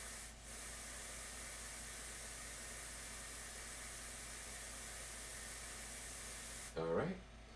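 An airbrush blows a steady stream of air to dry a painted plastic model part, giving a constant soft hiss close by. The hiss cuts off near the end, followed by a brief voice.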